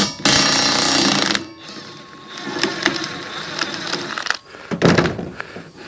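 An impact gun loosens a large 1.25-inch fine-thread nut on a tractor 3-point hitch arm, giving a loud sustained rattling burst, then scattered metallic clanks and a second short burst, all outdoors and close by.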